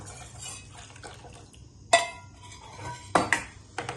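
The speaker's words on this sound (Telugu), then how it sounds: "ఇలా కలుపుకుంటూ ఉండాలి." A spoon stirring cornflour mixed with milk in a pan for homemade falooda, soft scraping and swishing with a few sharp metallic clinks of utensil against the pan, close and fairly quiet.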